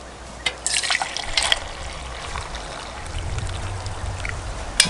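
Billy tea pours from a homemade billy through a strainer, a steady trickling splash with a few clinks at the start, heard close and with no talk.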